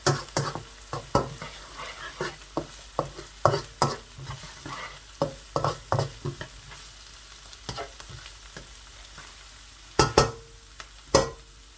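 Softened onions browning in oil in an uncovered pan for macaroni, a low continuous sizzle broken by frequent clattering stirs of a spoon against the pan, steady and close.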